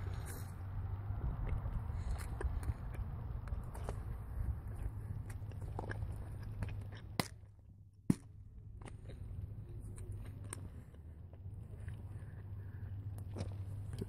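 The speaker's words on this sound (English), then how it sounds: "that chewing took forever" Someone chews a gross-tasting candy with soft, wet biting and mastication sounds over a steady low rumble, with a brief quiet dip midway.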